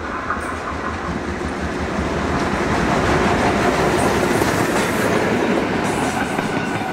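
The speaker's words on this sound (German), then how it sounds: "Dann kam auch die P8 aus dem Tunnel gefahren und entschwand an diesem Tag unseren Blicken" A train led by a Prussian P8 steam locomotive rolls out of a tunnel in the Neandertal during a summer festival, its wagons rumbling and clattering steadily and loudly throughout.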